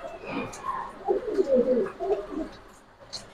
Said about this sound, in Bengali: এটা বাবু জাতের মাদি কবুতর।